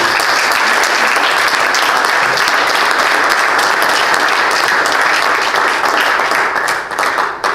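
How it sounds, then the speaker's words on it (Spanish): Loud, sustained applause fills a church as the congregation claps together, a dense and even roar of hands that stays strong throughout and dips slightly just before the end. "un fuerte aplauso al Rey de Reyes"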